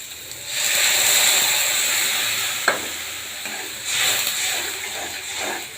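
Water hits a pan of fried garlic paste and sets off a loud, steady hiss of steam and sizzling. A sharp clank comes near the middle, and later the bubbling swells again briefly.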